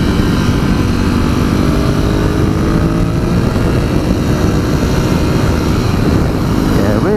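2019 Ducati Scrambler 1100 motorcycle engine while riding on a de-restricted road: a loud, steady engine drone mixed with wind rush, continuous from start to end, with no voice.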